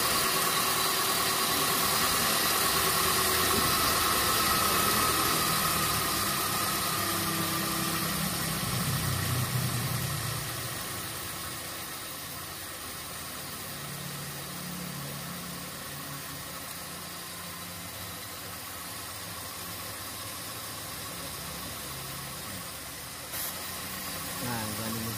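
Engine of a boxy Suzuki Karimun idling steadily during idle speed adjustment, a continuous mid-pitched hum that drops slightly in level partway through, with a brief click near the end.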